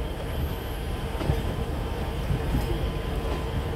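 An Alishan Forest Railway train with cypress wood carriages rolls along, a steady loud rumble of wheels and carriage noise with faint squeal-like tones, close and continuous.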